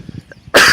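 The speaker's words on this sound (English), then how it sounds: "I still got a bad cough" A single harsh, loud cough bursts out near the end after a few quiet moments, close to the microphone and alone.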